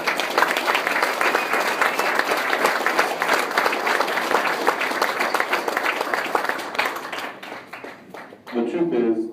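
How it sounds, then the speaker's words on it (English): A crowd at an evening gathering in a private home applauds its hosts and veterans with steady, dense clapping for about eight seconds before it thins out and a voice begins speaking. "Let's give all of them a round of applause"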